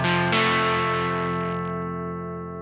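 An electric guitar through a Mad Professor Big Tweedy Drive overdrive pedal set for an amp-on-the-edge tone, with two strummed chords ringing out in a rich, slightly gritty sustain that slowly decays, heard alone.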